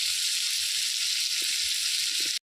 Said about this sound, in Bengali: দেখো এখানে আমার পেঁয়াজটা ভাজা হয়ে গেছে, হালকা হালকা ব্রাউন হয়ে গেছে